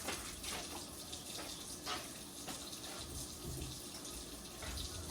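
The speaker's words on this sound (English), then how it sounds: "So I'm gonna add just a little water and add some vinegar." Water pours steadily into a baking pan, a continuous close splashing stream with slight surges, no talking.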